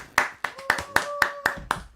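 Seven sharp hand claps in an even, quick rhythm, close and crisp, performed by a host on a talk show set with a faint tonal hum in the background.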